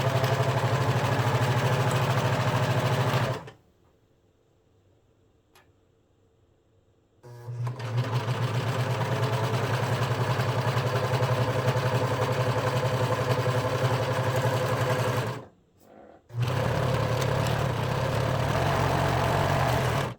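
An electric sewing machine stitches a fabric ruffle for a boho top, running loud and steady, stopping for about four seconds, then running again with a brief pause near the end.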